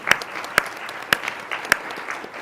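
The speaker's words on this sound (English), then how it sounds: "let's give them a round of applause." Conference audience applauding to welcome delegates, a dense patter of many hands clapping with a few sharp, loud claps standing out, steady throughout.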